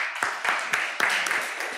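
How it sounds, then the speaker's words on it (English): An audience applauds at a student speaking event, a brief burst of dense clapping heard up close with no one speaking over it. "A round of applause, please."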